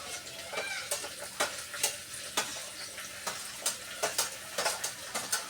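Tomato, mint and potato frying in a pan for vegetable biryani, a bright continuous sizzle broken by repeated scraping stirs of a spoon at a close, moderate level.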